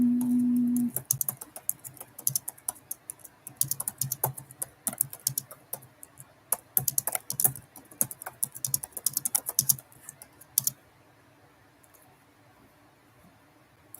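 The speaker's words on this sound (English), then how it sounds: "I'll type it in the chat" Rapid clattering keystrokes on a computer keyboard, typed in irregular bursts for about ten seconds before stopping, fairly close and moderately loud with no talk over them.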